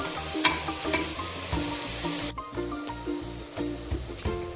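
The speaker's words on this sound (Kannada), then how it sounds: "ಅರಿಶಿನ ಹಾಕ್ಕೊಂಡು ಚೆನ್ನಾಗಿ ಫ್ರೈ ಮಾಡ್ಕೊಳ್ಳೋಣ." Fenugreek leaves with turmeric fry in a pan for methi bath, giving a steady sizzle with rhythmic stirring scrapes beneath a continuous melodic music track.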